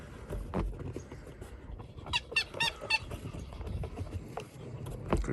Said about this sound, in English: You got your squeak back.